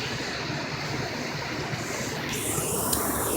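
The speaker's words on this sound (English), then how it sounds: "You can probably hear it, but there's a little creek behind it." A flooded creek rushing behind a house during a flood, a steady broadband roar of fast-flowing water filling the whole stretch at a constant level, close and continuous with no voices.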